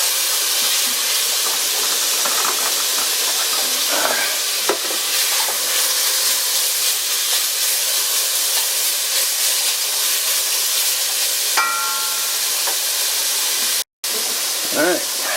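A hot cast iron pan hisses and sizzles with steam, a steady broadband wash running for about fifteen seconds, with faint stirring clinks and brief scrapes partway through and a sudden short cutout near the end.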